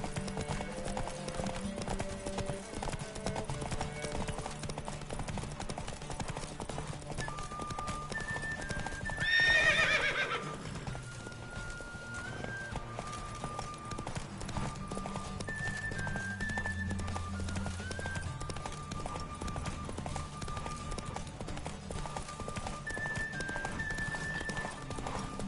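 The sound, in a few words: horse galloping and neighing, from the video game The Witcher 3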